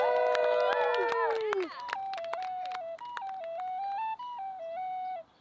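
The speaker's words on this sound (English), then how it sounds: "The first act is going to be Peter Mers with his tin whistle" Tin whistle played at a talent show, an act opening with a flurry of bright fluttering notes before settling into a simple stepwise tune, clear and close in a quiet room.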